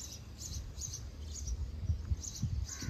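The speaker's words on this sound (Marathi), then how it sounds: "चिमण्या इतके आवाज करतायत ना" Sparrows chirp in quick, high repeated bursts in the early morning near a temple, against a quiet outdoor background, with faint low rustling beneath.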